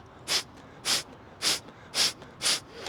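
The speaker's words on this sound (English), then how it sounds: "Our forceful breath is gonna sound like this." Five sharp, forceful breath-of-fire exhalations are pushed out through the nose in an even rhythm, close and hissy, with quiet pauses between.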